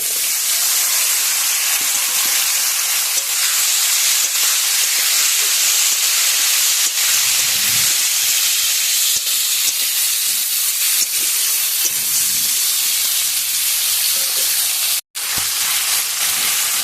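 Young drumsticks and potato pieces sizzle in hot oil with browned chopped onions, a loud, close, steady hiss that continues throughout with only a brief drop near the end.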